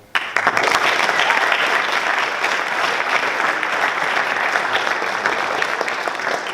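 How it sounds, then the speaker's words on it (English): Audience at a school talks event breaking into sustained applause, a full, steady roar of many hands clapping after a brief quiet start, with faint voices underneath. "I know that it's a lot of clapping"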